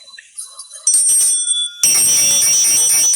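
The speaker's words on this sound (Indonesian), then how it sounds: "bunyi wahyu itu gemerincing lonceng" Jingling bell ringing, bright metallic tinkles that start in sparse bursts and then swell into a loud continuous shimmer, with some voice-like sound mixed in early on.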